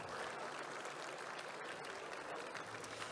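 Applause for the Ridley College Jazz Band at a regional business event: a steady wash of clapping from an audience, fairly faint and continuous, with no talking over it.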